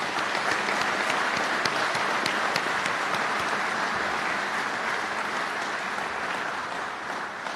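Sustained applause at a governor's bill signing honoring first responders, a dense crowd clapping steadily at full strength throughout before easing slightly toward the end.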